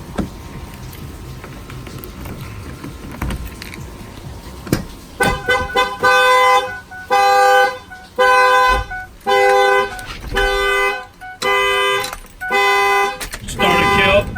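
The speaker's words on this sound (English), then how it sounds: "when somebody opens the door, it will definitely fire off the alarm" A truck's car alarm blares in loud, steady repeating horn blasts after some quieter background rustling and a voice, each blast about a second long with short gaps, set off by a door opening.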